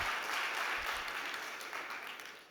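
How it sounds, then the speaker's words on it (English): An audience at a startup pitch competition applauds in a soft, steady wash of clapping that tapers slightly toward the end. "big round of applause for Thank you, Andrew guys"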